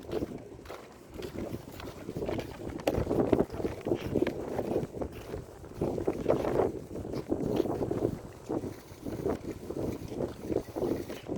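A small wooden boat churns along with steady water and motor noise, buffeted by wind gusts against the microphone, with no voices, at Umluj Seaport, Saudi Arabia.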